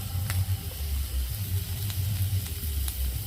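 Turmeric, chili, cumin and ginger pastes fry in oil in a pan for a fish curry with potatoes and vegetable stems, giving a steady, close sizzle and hiss over a low rumbling background.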